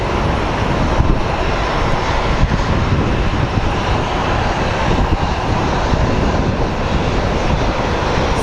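A steady, loud roar of an airplane engine at Sky Harbor International Airport, a broad continuous rumble with no pauses and no voices.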